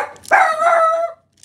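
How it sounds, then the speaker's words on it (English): A dog gives one long, close, howling bark that trails off, followed by near silence indoors. "Oh, and there's the dog barking"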